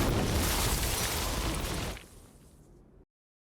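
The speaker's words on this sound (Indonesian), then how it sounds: "Dan seketika, gudang itu pun meledak" A warehouse explodes in a loud, dense roaring blast that holds for about two seconds, then thins into a fading rumble and cuts off abruptly.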